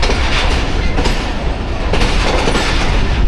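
Train and rail cars rumbling steadily at a Pakistani railway station on the Karachi–Lahore line, with loud, continuous clattering wheel noise and broadband roar throughout, no voices.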